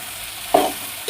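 Okra fries in a pan, with a quiet background sizzle and a sudden louder burst of hissing partway through, followed by a brief second flare at the end.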